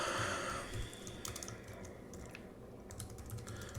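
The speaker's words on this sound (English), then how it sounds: "Let's type in my name." Someone types a name on a computer keyboard while filling out a survey. Quick, irregular key clicks run steadily throughout, close by, over a low background hum.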